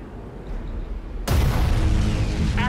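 Nova cannon firing in the space strategy game Battlefleet Gothic: Armada, a sudden heavy boom that breaks into a loud, sustained roaring blast after a low rumbling lead-in.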